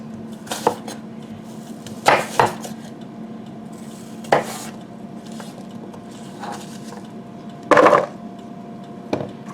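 A knife chopping butternut squash and apple into half-inch cubes on a board, with sparse, sharp knocks in small clusters separated by quiet pauses, close and clear with no talk.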